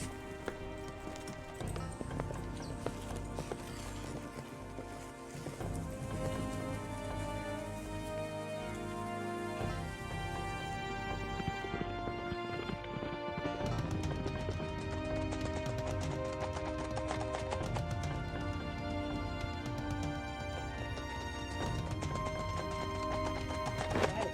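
Horse hooves clip-clop steadily through a western drama scene, heard under a continuous, loud music score with no one talking.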